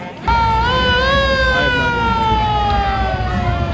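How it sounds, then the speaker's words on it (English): A loud siren wails with a steady, slowly falling tone, sounding close and continuous after a brief quiet start, at a homecoming parade. "Sounds like the Jumbotron sound. The siren."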